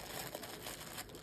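Plastic packaging with a sticker on it crinkles and crackles steadily as it is opened by hand, a close, fairly quiet rustle lasting about a second with no speech over it.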